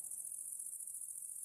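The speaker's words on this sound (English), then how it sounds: "the crickets continued a song in rhythm with it all" Crickets chirping on a warm night, a steady high-pitched pulsing trill that stays continuous and moderately loud over quiet, low background.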